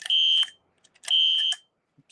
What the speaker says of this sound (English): I'm gonna go ahead and do the fire alarm testing for maybe a few minutes